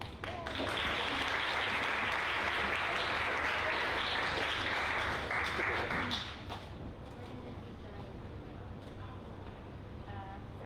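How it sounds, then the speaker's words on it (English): Audience at an online awards ceremony for expatriate entrepreneurs gives sustained, dense applause for about six seconds, then it thins to lighter scattered clapping and room noise. "Let's give a round of applause."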